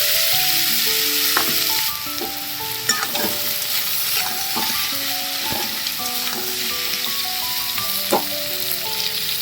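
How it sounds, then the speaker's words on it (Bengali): Potatoes fry in oil in a pan, a steady close sizzle with scattered stirring clinks and scrapes throughout. "এবার আলুটা একইভাবে ভেজে নেব।"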